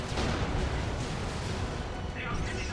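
A heavy turret fires in a Dawn of War 2 3v3 match: dull booming shots rumble over continuous battle noise, with voices under the din.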